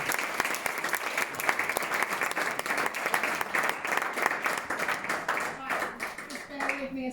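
A live audience claps in sustained, dense applause throughout, loud and close, as a presenter introduces a colleague at a business recognition event; no speech stands out over it.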